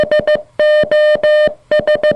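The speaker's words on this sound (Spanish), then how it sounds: "pedir ayuda mediante un SOS que suena así en Morse" Three short beeps, three long tones, then three short beeps: a clean electronic Morse SOS, loud and alone.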